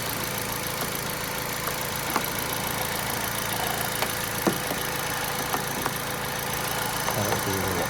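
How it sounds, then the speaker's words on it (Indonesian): A Kia Picanto engine runs steadily at a raised 2500 rpm after alternator replacement, a loud, continuous mechanical drone with faint rhythmic knocking ticks, heard up close with no talking. "Oke, kita gas 2500."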